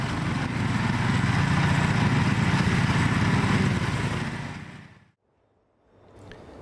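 A steady, loud flail mower engine drone runs for about five seconds, then fades to near silence before a quieter engine hum resumes.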